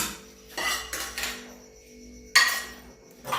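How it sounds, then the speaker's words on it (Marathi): Metal pots, pans and utensils clank and clatter as a restaurant kitchen is cleared for washing after closing at night, in sharp separate bursts with short quiet gaps between them. "आता हळूहळू ही सगळी भांडी काढायला चालू आहेत की आता या सगळ्या ही सर्व भांडी धुवायला टाकणार"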